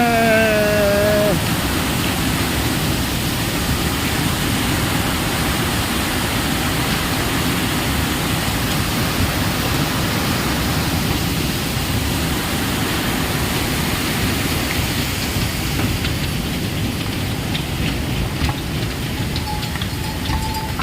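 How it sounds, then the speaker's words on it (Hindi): A waterfall on the mountain trek from Gaurikund to Kedarnath roars loudly in a constant broadband rush of falling water that fills the whole stretch without a break. "बड़ा ही खूबसूरत वाटरफॉल है।"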